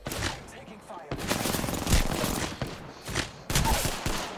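Automatic gunfire in the Apex Legends video game, loud rapid bursts in several separate volleys, close and dense, with brief gaps between them.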